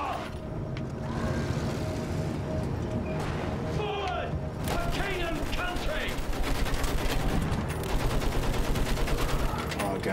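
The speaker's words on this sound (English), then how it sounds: "Alright, I'm gonna shoot one over there somewhere." Battlefield 1 combat with rapid gunfire and distant battle noise building into dense bursts of shots, heard under someone talking.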